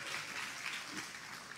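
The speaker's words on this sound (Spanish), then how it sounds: "darle el mejor aplauso en este día de honra" A church congregation claps together at a service of praise, a steady dense patter of hands that holds evenly the whole time, moderately far off and fairly quiet, with no voices over it.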